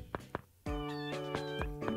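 Nekomata, a cat demon in the video game Persona 2: Eternal Punishment, lets out a series of loud meows, with short chirps at first and then a long sustained cry, close and alone.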